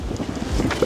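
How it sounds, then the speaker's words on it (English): Strong gusting wind buffets the microphone at the top of Shek O Peak in Hong Kong, a steady broadband roar with no voices. "Which, as you can imagine, is very windy."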